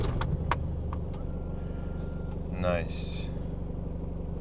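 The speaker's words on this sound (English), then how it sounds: "A nice sound of classic diesel." A Toyota Land Cruiser Prado's classic diesel engine idles with a low, even rumble that runs steadily throughout, while a person briefly speaks over it and a few light clicks sound near the start.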